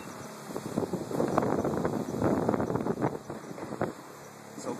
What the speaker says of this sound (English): while it's pressing, the blower comes back on